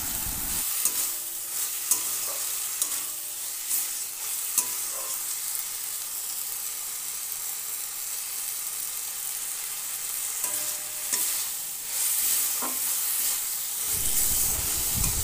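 Malabar spinach leaves and prawns fry in a pan with a continuous soft sizzle and hiss, broken by repeated scraping clacks of a spatula stirring, close up with no talking.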